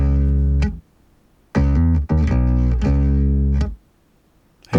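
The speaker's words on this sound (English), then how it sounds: "it will add an octave or 2 octaves below the original sound" A Cubase octaver plug-in adds one or two lower octaves beneath a sustained bass-heavy synth or instrument line, heard in a few loud phrases with a growling low layer, broken by short silent gaps.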